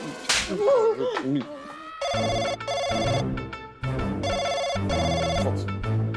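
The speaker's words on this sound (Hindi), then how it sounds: "फोन आ रहा है" A telephone rings loudly and close by in repeated electronic bursts with short gaps between them, after a brief burst of voice and noise at the start.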